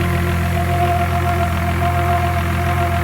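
A 1994 Nissan Skyline engine idling after a cold start, a steady, loud mechanical hum with a constant pulsing drone heard close up and alone.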